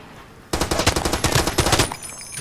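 Rapid automatic gunfire in the video game Far Cry 2 multiplayer on the Strike at Karkand map, a loud burst of about a dozen quick shots lasting over a second, then quieter trailing sounds.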